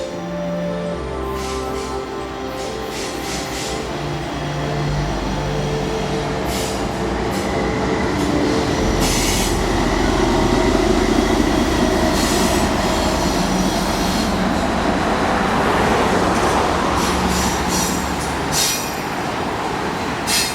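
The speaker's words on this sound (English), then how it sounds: "Norfolk Southern 243, the southbound counterpart of that 242 that we had seen earlier, making its way towards Inman Yard" A southbound Norfolk Southern freight train rolls past up close for a long stretch on the Greenville District, wheels rumbling and clacking steadily with occasional metallic squeals.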